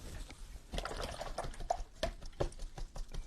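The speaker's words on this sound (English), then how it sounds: "Okay, and then you can rinse it in water." A glue-covered paintbrush is rinsed in water, giving quick wet swishes and small splashes in close, uneven bursts.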